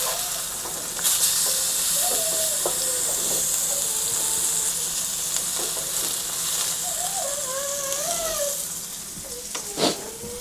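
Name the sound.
salmon fillet sizzling in a pan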